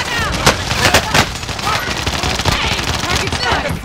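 Dense gunfire in Call of Duty: Modern Warfare, with loud, sharp reports in a rapid, uneven barrage that runs through the whole stretch and includes some heavier bangs. It is close and dominant, and voices may come in briefly.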